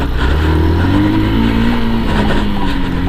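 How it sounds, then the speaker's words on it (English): An X-Pulse 200 motorcycle engine drones close and loud on a test ride, its pitch climbing and easing under steady wind and road noise. "a small test ride to see how the bike performs"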